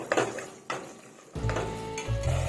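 Minced meat and spices being stirred in a pan for dhaba-style matar keema, giving a few scraping, clattering spoon strokes over a low sizzle, close and fairly loud, with no one talking.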